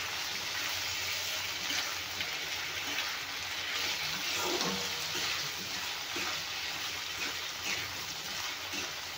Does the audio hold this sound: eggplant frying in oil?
yes